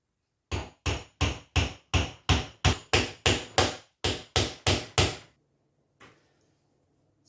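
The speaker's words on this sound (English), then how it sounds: "it's taken me about 10-15 minutes to hammer these tiny stair rods into place" A small hammer drives tiny stair rods into a wooden dollhouse staircase: about a dozen sharp, evenly spaced taps in quick succession, close and loud, then a pause and one faint knock.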